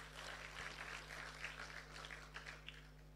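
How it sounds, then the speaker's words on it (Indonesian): A church congregation clapping together, a steady, fairly faint patter of many hands over a low background hum. "Tepuk tangan dulu buat Yesus."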